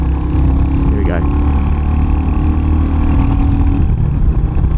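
Royal Enfield Hunter 350 motorcycle engine heard while riding, a steady mid-pitched drone with a brief rev near the start, mixed with constant wind rush.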